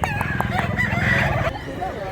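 Close crowing from a rooster for sale at a market gathering, a loud strained call over a steady murmur of background voices and crowd noise.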